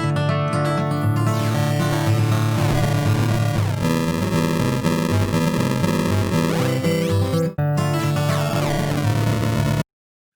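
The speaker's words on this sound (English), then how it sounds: "We have the bit crusher, which reduces the bit rate" A dense electronic music loop runs through a Cubase bit crusher, giving a gritty, lo-fi digital crunch like an old computer game, continuous and loud with a short dropout before the end.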